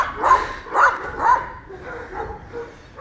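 A Kangal dog on a Turkish Kangal breeding farm barks three times in close, loud succession, followed by softer whining yips.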